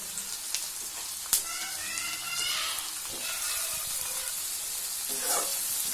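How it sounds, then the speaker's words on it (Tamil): Tomatoes sautéing in a hot pan for restaurant-style aloo gobi gravy, a continuous close sizzle with occasional sharp clicks and stirring scrapes, no talking. "இதையும் ஒரு 2 நிமிஷம் இப்படி வதக்கினா போதும்."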